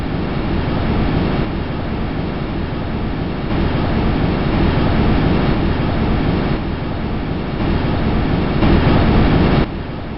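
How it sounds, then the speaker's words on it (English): Wind roars and rumbles past a microphone on the Huygens probe as it descends through Titan's atmosphere: broad, constant noise with slow surges and dips, loud and unbroken. "this is actual audio taken by a microphone on the Huygens probe as it descended through Titan's"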